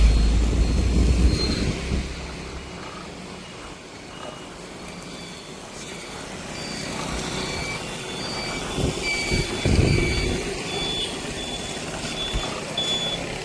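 A concrete mixer truck overtakes on a road in Jaffna during heavy rain, producing a broad rumbling drone over steady rain-like noise, with faint repeated high beeps running through.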